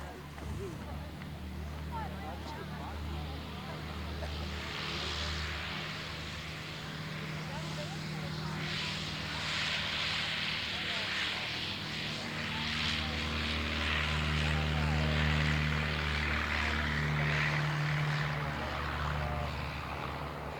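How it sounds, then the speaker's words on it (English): Miles Gemini propeller aircraft flying at the Shuttleworth evening air display, a continuous droning engine that swells louder and holds across the whole stretch while an announcer talks over it. "that's John Allison away in the Gemini"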